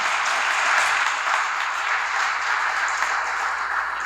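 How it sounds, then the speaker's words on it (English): At a Choctaw Nation princess pageant, the audience gives the Junior Miss contestants a round of applause: steady, even clapping from a crowd, heard alone at moderate loudness. "Let's give them a round of applause."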